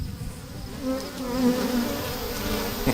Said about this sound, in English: I think they're buzzing because they know you love them